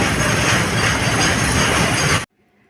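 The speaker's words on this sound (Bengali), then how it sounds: "পাশের ট্র্যাকটা থেকে এই মালগাড়িটা যাচ্ছে" Freight train rolling past on the neighbouring track at Medinipur station, a loud, steady broadband rumble and rattle close by that cuts off abruptly near the end.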